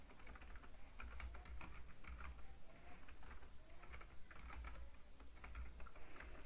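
Typing on a computer keyboard while entering manufacturing stock journal data, with a steady stream of quiet, close key clicks in irregular bursts and no talking.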